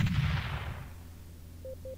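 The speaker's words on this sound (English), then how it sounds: "Okay, that was a grenade." A grenade going off in the top-down game Teleglitch, one heavy booming blast that rumbles and fades over about a second, followed by two short electronic beeps.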